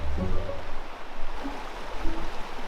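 A river floods across a dirt trail, rushing and gurgling in a steady broadband wash close by, with a faint low rumble beneath and no talk.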